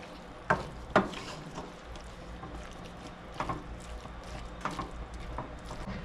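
Seasoned ground beef with black pepper and salt is stirred in a frying pan, giving soft scraping and shuffling with a few louder knocks of the utensil over a low sizzle, close and moderately quiet.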